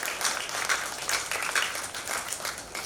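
A crowd applauds at a community event hosted with DC Public Library, steady dense clapping filling the whole stretch at moderate loudness with no voices over it.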